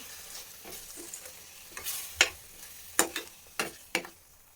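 Ground spicy masala frying and beginning to simmer for a sprouted gram curry, a soft background sizzle broken by several sharp scraping stirs of a spoon against the pan.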